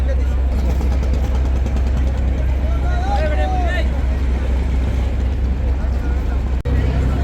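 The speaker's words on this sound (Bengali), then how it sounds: "পঞ্চম লঞ্চ এম খান 7 ঢাকা থেকে বরিশালের উদ্দেশ্যে ছেড়ে যাচ্ছে যাত্রী নিয়ে।" The passenger launch M Khan 7 leaves Dhaka for Barisal on a holiday trip, its engine droning low and constant beneath a murmur of crowd noise, with a brief whistle-like tone rising midway and a sharp knock near the end.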